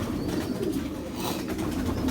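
Soft, low cooing from a pigeon close by, murmuring over a faint background hiss.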